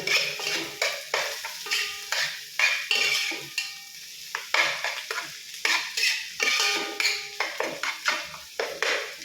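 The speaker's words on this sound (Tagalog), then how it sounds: "haluin muna natin ng konti ang ating... Balikan ang bawang at sibuyas" Sautéed garlic and onion being stirred in a pan, with repeated rhythmic metal utensil scrapes and clanks over a continuous sizzle, close and fairly loud.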